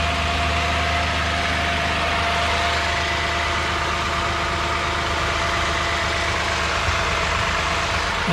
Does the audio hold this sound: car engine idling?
yes